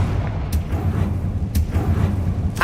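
Confringo blasting spell cast in a Harry Potter video game: three short, bright bursts, evenly spaced about a second apart, over a dense low rumbling game background, with no talk.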